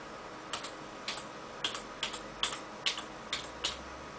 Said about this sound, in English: Now type in MSP format again